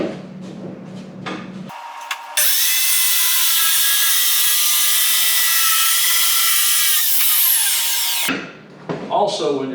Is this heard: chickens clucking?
no